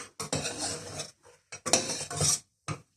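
Pilau rice is stirred in a pot with a spoon, making several close bursts of scraping and clinking against the metal, with short pauses between the turns.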